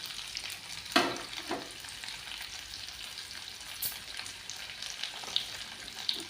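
Green chillies and onions fry in a pan with a steady crackling sizzle, punctuated by a few louder pops and stirring scrapes; no voices.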